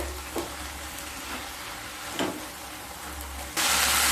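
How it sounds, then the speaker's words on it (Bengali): Pui shak (Malabar spinach) greens frying in a pan for a Bengali raita, a steady close sizzle with a few soft stirring scrapes, rising to a louder, brighter hiss near the end as the heat is raised. "এবার স্টিমটা বাড়িয়ে আরো ভালোভাবে শাকের ভেতর থেকে জলটাকে শুকিয়ে নিতে হবে।"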